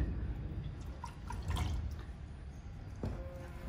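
Cooling water running through the circuit of a handheld laser welding machine, a soft steady trickle with occasional faint drips, low and continuous throughout with no talking.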